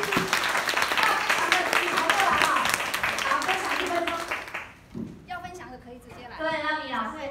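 An audience claps to welcome a speaker at a training session, a dense burst of applause that fades out, followed by a single voice speaking.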